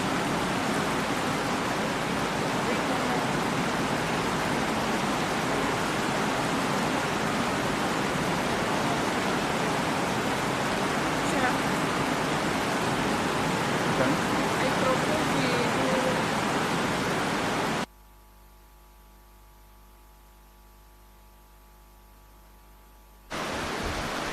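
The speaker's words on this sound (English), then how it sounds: "I think we give the rain a few minutes." Steady, dense rain pours at an outdoor summit gathering, a loud even hiss that continues for most of the stretch, drops out briefly, then returns.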